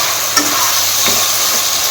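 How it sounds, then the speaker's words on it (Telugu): Chicken in gravy stir-fried in a pan, a loud, dense, continuous sizzle close up with steady stirring scrapes and no talking. "గ్రేవీ వేసి అయితే అలా ఫ్రై చేసుకోవాలి."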